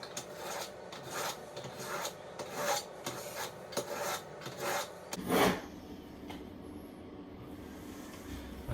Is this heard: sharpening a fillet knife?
yes